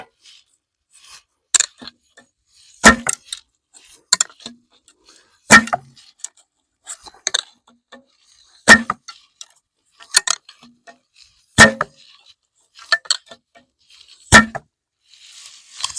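Bow drawn and arrows loosed in a linear Slavic-style draw, a series of sharp, isolated snaps and clicks spaced a second or two apart, close and crisp against near silence.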